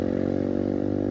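A pack of motorcycles on a racing circuit: a dense, continuous buzzing engine roar with a low rattling pulse, loud and close, with no pauses.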